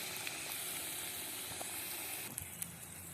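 Hot oil sizzles steadily with a bright crackling hiss as potatoes fry, a few sharper pops breaking through near the end, no voices.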